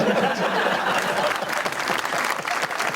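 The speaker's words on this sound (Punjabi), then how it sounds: "ਤਾਲੀਆਂ ਖੁੱਲ ਕੇ ਵਜਾਓ, ਤਾਲੀ ਵਜਾਉਣ ਨਾਲ ਕੋਈ ਮੁਅੱਤਲ ਨਹੀਂ ਹੁੰਦਾ।" Sustained audience applause from a crowd at a televised political satire stage show, dense steady clapping filling the whole stretch with faint chuckles mixed in.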